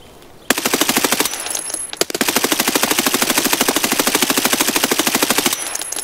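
Rapid automatic gunfire in a video game, a loud rattling burst of evenly spaced shots, a brief pause, then a longer sustained stream of fire that stops near the end.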